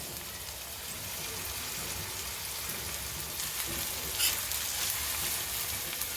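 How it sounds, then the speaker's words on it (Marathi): Ginger, garlic and green chili paste sautéing in a pan with tomatoes, giving a steady close sizzle that swells briefly near the end, with no talking. "हे छान परतून घेऊया"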